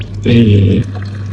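Milk pours from a self-service vending dispenser in a 24/7 unstaffed shop, a short steady stream of liquid lasting about half a second, close and fairly loud over a low background hum.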